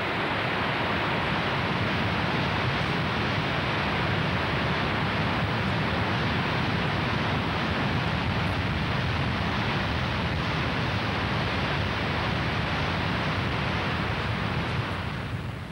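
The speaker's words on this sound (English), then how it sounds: "waterfall is a break in the smooth downward course of a river" A waterfall on the River Tees pours in a steady, broad rush of water. It sounds continuous and moderately distant, with no voices and no change over the whole stretch.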